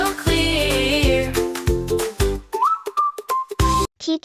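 Bright melodic whistling in a children's nursery rhyme song, following sung and instrumental notes, a few clear whistled tones near and loud, ending in short bursts.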